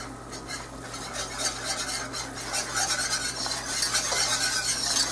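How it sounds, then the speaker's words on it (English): A whisk stirs a bubbling beef stew base in a hot pot, giving steady scraping and metallic rasping against the pan over a low simmering hiss, close and fairly loud. "I always stir this base a lot because it helps you keep an eye on what it's doing"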